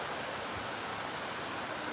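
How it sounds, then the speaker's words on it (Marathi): Heavy monsoon rain pours down in a rural village, a dense, steady, loud hiss that holds unbroken for the whole stretch with no voices. "जबरदस्त असा पाऊस आवाज येत असेल मुसळधार पाऊस आहे"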